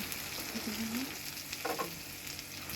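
Chopped okra frying with onions in a pan, a steady close sizzle with faint stirring scrapes and a couple of brief tonal squeaks from the utensil.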